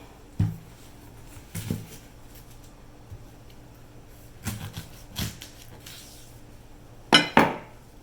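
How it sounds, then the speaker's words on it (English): Knife cutting the ends off a hot, microwaved corn on the cob on a hard surface, several sharp separate chops and clacks spaced irregularly, close and fairly loud against a quiet room. "I think I'm going to cut the ends of it off."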